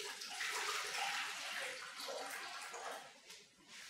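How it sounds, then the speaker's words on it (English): Water pours steadily into the bin of an ultrasonic cleaner, a close, continuous splashing gush that fades slightly near the end. "We're going to add water to the bin"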